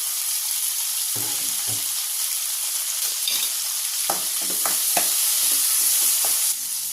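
Chopped tomatoes fry in a pan with a constant close sizzle, broken by several soft knocks and scrapes from stirring, and no one speaks.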